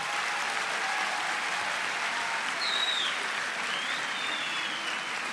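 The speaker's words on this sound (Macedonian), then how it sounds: "Да го чујам аплаузот" A large audience at the founding assembly of a youth political forum applauds steadily and densely, a continuous wash of clapping from many hands lasting throughout, loud and unbroken with a few faint whistles.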